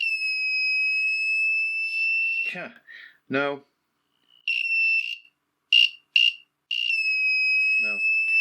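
An electronic buzzer in a resistor circuit sounds a steady high-pitched tone, cutting out and returning in short bursts and longer stretches, with someone speaking briefly in the gaps.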